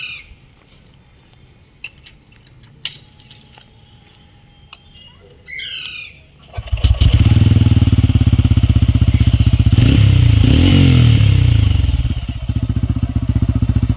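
Faint bird chirps over quiet background, then a TVS Ronin motorcycle starts and idles loudly, its exhaust giving a deep, bassy, steady rumble that stays up close to the end.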